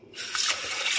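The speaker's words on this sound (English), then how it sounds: "I fill water up in this" Water from a kitchen tap gushes into a dish, starting abruptly and running steadily, close and fairly quiet, with no voices.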